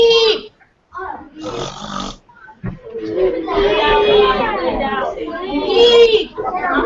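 Schoolchildren in a classroom imitate snoring with their voices, producing several loud nasal, rasping snore sounds in bursts, overlapping with giggles and chatter.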